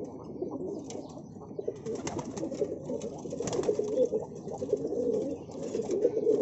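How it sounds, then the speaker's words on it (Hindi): Several male pigeons of home-bred breeds coo steadily in a loft, a dense overlapping murmur of low throaty calls that grows slightly louder toward the end. "सब नर कबूतर हैं दोस्तों।"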